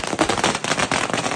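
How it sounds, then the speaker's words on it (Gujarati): Diwali firecrackers go off in a village in a rapid, loud crackling burst, dense overlapping bangs rattling close by in an unbroken volley. "દિવાળીના દિવસે કર્યો બરો ગામમાં મોટો બધો ધમાકો"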